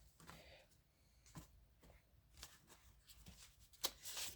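Tarot cards are cut and shuffled close by in soft, quiet riffles and taps, with sharper card snaps near the end.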